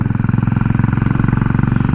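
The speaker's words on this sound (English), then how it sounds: "because it's a big old single cylinder engine, even the standard exhaust I imagine sounds great" A Royal Enfield Continental GT's big single-cylinder engine with an aftermarket exhaust thumps at idle close by, a steady, rapid even pulse with no voices.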